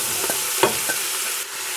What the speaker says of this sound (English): I'm going to add my carrots, onions, celery, pretty much all my vegetables except for the garlic.